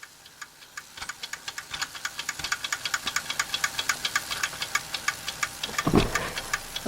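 A Fleischmann 120-4 toy steam engine runs under its own power, giving a fast, even ticking and chuffing that gradually picks up pace, close and clear, with a brief knock near the end.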